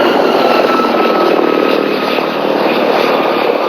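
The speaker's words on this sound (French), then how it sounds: "Depuis le ciel, des hélicoptères de l'armée française tirent sur les manifestants des civils." French army helicopters fly overhead during unrest in Côte d'Ivoire, their engines and rotors making a loud, sustained roar that dips slightly midway and carries no voices.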